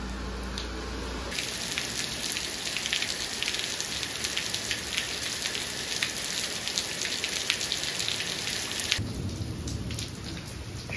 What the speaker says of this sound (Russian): Проливной дождь, я весь сырой.